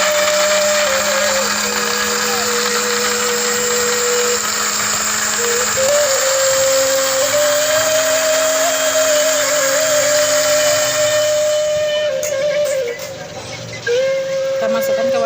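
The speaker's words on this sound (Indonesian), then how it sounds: "Oke, mari kita blender ya di sana." A blender grinding spices runs continuously and loudly, its motor whining at a steady pitch with a grinding rasp, then slows and cuts out near the end.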